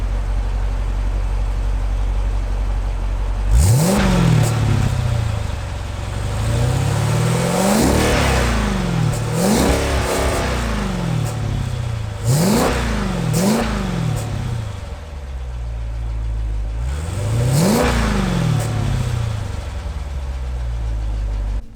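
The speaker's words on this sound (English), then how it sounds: "give it some revs" A Jeep Grand Cherokee SRT engine idles and is revved repeatedly, five or six sharp surges that rise and fall back to a steady idle, close and loud.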